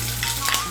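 Ginger paste hitting hot oil in a pan for a Bengali chal potol dish, a brief, close, crackling sizzle with a couple of sharper spits.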